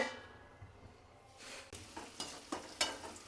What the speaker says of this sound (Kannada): ಉಳ್ಳಾಗಡ್ಡಿ ಫ್ರೈ ಮಾಡ್ಕೊಳಕತ್ತೀನಿ